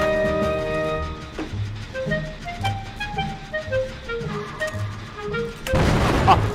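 A generator blows up after a failed skill check in the horror game Dead by Daylight, a sudden loud, noisy burst near the end that breaks through sparse tonal in-game music and effects.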